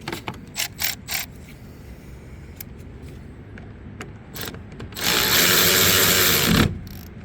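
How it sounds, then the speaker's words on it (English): A ratchet tightens a 10 mm bolt on the auxiliary battery of a 2010s Jeep Compass, with a few quick clicking strokes, then a louder sustained ratcheting run of about a second and a half, close up. "we need to put our bolt back on, which is one of the 10 millimeters, and it'll thread on fine"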